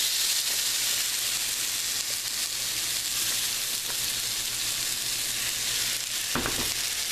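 Ranchero sauce hits a hot pan of taco filling, setting off a loud, steady close sizzle and frying hiss that fills the whole stretch, with a brief stir or scrape near the end.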